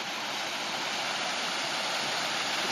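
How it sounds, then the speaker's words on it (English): A small waterfall on a creek pours steadily, a dense, even rush of falling water heard close up and constant throughout with no other sounds. "This is the first little waterfall"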